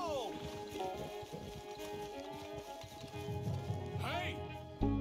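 A horse clip-clops and whinnies in a Red Dead Redemption 2 game scene as it runs off. The hoofbeats are fast and steady under a busy layer of game ambience, with a rising whinny near the end.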